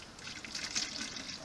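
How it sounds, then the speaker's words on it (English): Water poured over plants in a hanging basket of transplanted asarina, a steady soft trickle and splash into soil, fairly quiet and continuous with no talking. "Now I am going to water these until water runs out the bottom"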